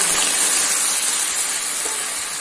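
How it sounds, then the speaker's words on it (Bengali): Water poured into a hot pan of cooking jackfruit curry with prawns, a loud, steady, close hiss of steam that fades slightly toward the end, with no talking. "এরপর একটু জল দিচ্ছি"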